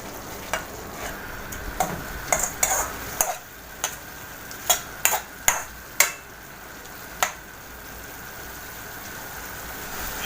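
Lamb hearts and kidneys frying in rendered lamb fat while being stirred, a steady sizzle broken by repeated sharp clicks and scrapes of the utensil against the pan, close and fairly loud, with no talking.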